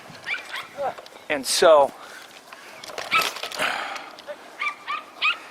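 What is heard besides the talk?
dog barking and whimpering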